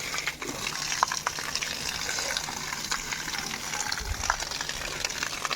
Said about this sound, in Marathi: हे बघा असं पाणी मारायला लागतं